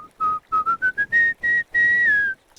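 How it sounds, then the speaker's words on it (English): A man whistles a rising tune of about ten short and sustained notes, clear and close, with no other sound around it. "he whistles."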